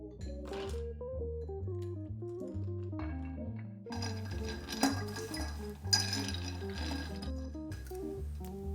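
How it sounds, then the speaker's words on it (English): Gentle clinking of a spoon against glass and ice while stirring a Southside cocktail, a steady stirring rattle that continues over background music. "Let's get stirring."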